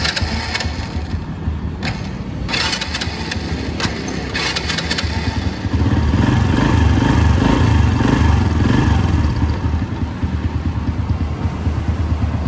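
An old black-block Honda Wave Alpha motorcycle engine with its original motor kicks over with a few sputters, then settles into a steady, close idle that grows louder midway and stays even and smooth to the end.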